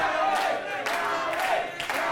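Crowd at a tag-team pro wrestling match roars and chants steadily in support of a wrestler, a dense, loud wall of cheering with a faint voice underneath.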